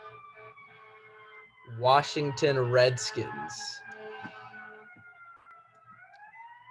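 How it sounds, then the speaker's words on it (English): Ambulance siren passing outside in Chicago, a thin, drawn-out wail gliding in pitch and rising again at the end, distant and faint beneath someone talking briefly in the middle. "I'm gonna wait for this ambulance to pass."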